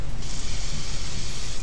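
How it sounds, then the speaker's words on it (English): Evian water spray mists a MAC 109 makeup brush held in front of pressed powders, one steady, close hiss lasting over a second. "This is just Evian water spray"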